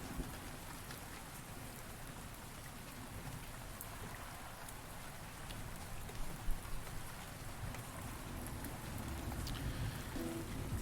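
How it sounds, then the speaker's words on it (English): Steady rain falls on a surface in a continuous, moderately loud wash with scattered drop patter and no talking. "The sound of rain really calms me down"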